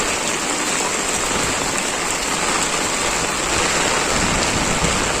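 Heavy typhoon rain pours down steadily in Bicol, a dense, even hiss that holds at the same loud level throughout with no voices.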